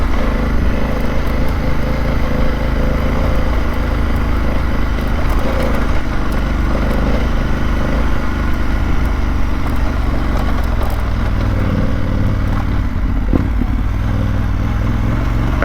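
A BMW F900GS motorcycle pulling in first gear on a dirt truck trail, its engine droning loud and steady at low revs with a rough, continuous rumble and some clatter throughout.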